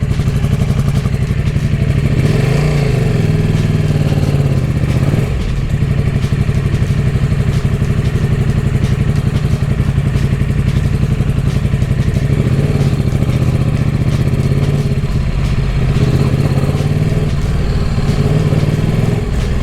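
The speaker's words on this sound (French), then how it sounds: "je me demande vraiment si c'est juste le bruit de l'échappement" A KTM motorcycle engine idling indoors in a living room converted into a garage, a steady loud low rumble and exhaust drone with faint mechanical clatter, continuous and close.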